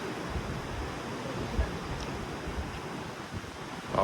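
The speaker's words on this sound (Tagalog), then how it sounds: "Malakas ang alon ngayon. Malakas din ang hangin." Heavy ocean waves and steady wind wash over an open cruise ship deck far out at sea, a continuous dense roar with occasional soft thumps, no one speaking.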